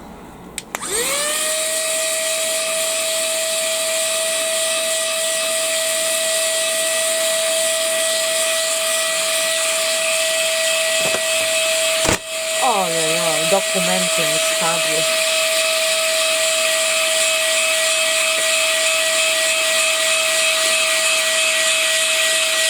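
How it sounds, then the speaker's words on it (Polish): An electric air blower cleaning a laptop keyboard spins up and then whines at a steady high pitch. Midway, a brief clatter and a wavering rattle cut in before the blowing carries on. "Ja teraz biorę dmuchawą, nie odkurzaczem, tylko dmuchawą."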